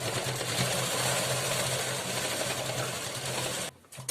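A sewing machine stitches katori blouse pieces with a fast, steady mechanical whirr and needle chatter running continuously at close range for about three and a half seconds, then stopping abruptly, with no voices.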